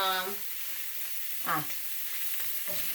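Ground meat and vegetables sizzle steadily in their own grease in a pan while being stirred, a constant crackling hiss with a few louder scrapes and stirs, close by and without talk.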